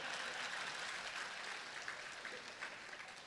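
An audience at a speech by Finance Minister Nirmala Sitharaman, thanking the people of Melur, claps in steady, faint crowd applause with no voice over it.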